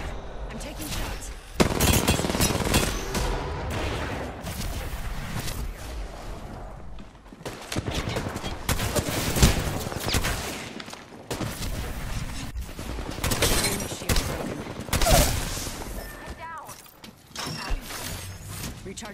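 Rapid bursts of video game gunfire from a ranked online shooter, loud and dense, with repeated volleys across most of the stretch and short lulls between them, mixed with busy game sounds.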